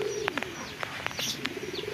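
Pigeons coo softly nearby in rainy weather, a low warbling hum, with sharper chirps and wing-like flutters scattered over it.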